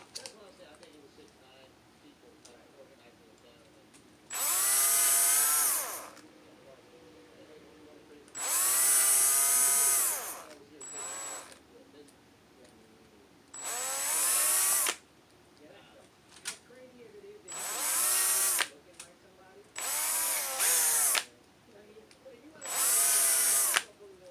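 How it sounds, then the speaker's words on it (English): A power drill whines in several bursts while drilling holes into a Hot Wheels die-cast toy car, each burst running a second or two, separated by quiet pauses with faint background noise. "I just drilled a whole bunch of holes in there"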